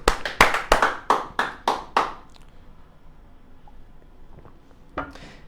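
A congregation in a Spanish-language church service claps about seven sharp, evenly spaced times, then falls quiet, with one faint clap or knock near the end.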